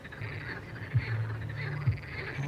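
Frogs croaking at night outside a nightclub, a steady close chorus of low rhythmic croaks with a couple of louder individual calls over a faint background hum.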